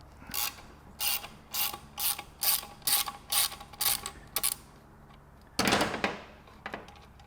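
A quarter-inch drive ratchet loosens a plug on the front of a ute's transmission case, giving about ten quick bursts of clicking, a pause, then a longer louder burst, close up and with no talk.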